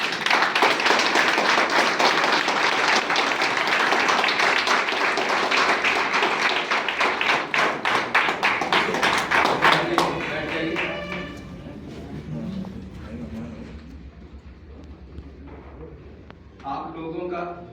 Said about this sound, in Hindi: वो खड़े होकर हमारे नए मेहमानों का तालियों के साथ स्वागत करें